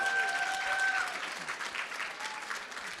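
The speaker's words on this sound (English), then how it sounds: "That was an applause." Convention audience at Scifiworld in Gothenburg breaking into steady applause, a dense wash of clapping lasting a few seconds with some faint tonal sounds near the start.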